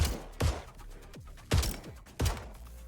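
Three sharp, punchy gunshots from a shooter in the video game Battlefield 6, spaced roughly a second apart at moderate volume over a low background hum.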